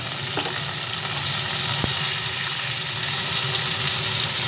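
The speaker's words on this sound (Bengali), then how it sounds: "সব একসঙ্গে পেঁয়াজের সঙ্গে ভাজা হচ্ছে।" Tomatoes and green chillies frying with onion paste for a Bengali fish curry, a dense, even sizzle throughout with one sharp tap of a utensil midway and no voices.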